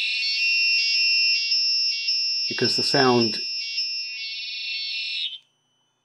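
Active buzzer module on an Elegoo UNO R3 board sounding a loud, continuous high-pitched electronic tone with a slight pulsing flutter; someone speaks briefly partway through before the tone stops.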